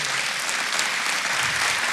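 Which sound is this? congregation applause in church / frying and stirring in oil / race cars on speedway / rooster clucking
congregation applause in church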